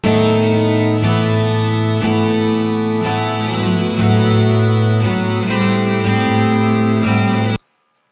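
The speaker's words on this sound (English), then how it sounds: "the first step, I think, is to time stretch this to give it a bit of a different sound" A 120 BPM loop time-stretched to double length in Reason plays alone, loud and sustained with a regular pulse of hits about once per second, then cuts off abruptly near the end.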